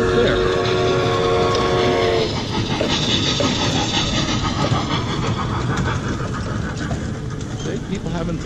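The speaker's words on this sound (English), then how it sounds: "Oh, there's the train." A tourist train passing at night in Pigeon Forge, with a horn-like tone early on that gives way to a steady rumble and rattle of cars rolling by, heard amid crowd noise and people talking.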